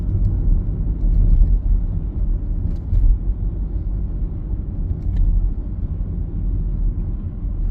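A car driving around the village of Percy Main after being repaired, heard from inside as a steady low engine and road rumble with faint ticks and knocks, no talking.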